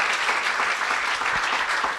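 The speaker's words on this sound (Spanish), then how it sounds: "si le va a aplaudir al Señor, apláudale" A church congregation claps, a dense, even wash of applause filling the whole moment with no voices.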